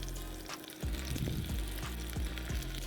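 Onion and pumpkin pieces fry in olive oil for an Italian risotto, a steady close sizzle broken by several soft thumps and scraping stirs as the vegetables are moved around the pan.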